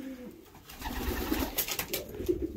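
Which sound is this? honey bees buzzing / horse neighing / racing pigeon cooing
racing pigeon cooing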